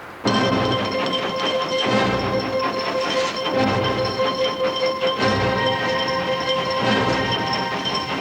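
A steady, loud mechanical rumble and hiss of a running steam locomotive leaving an engine shed yard, with rhythmic thumps and sustained ringing tones throughout.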